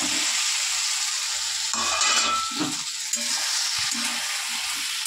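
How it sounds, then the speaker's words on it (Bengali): Soya chunks fry in a pan with a steady, close sizzle and hiss, broken by soft stirring scrapes and bumps throughout. "আজকে বন্ধু মশলা কষানোর আগেই কিন্তু আমি সয়াবিনটা দিয়ে দেবো"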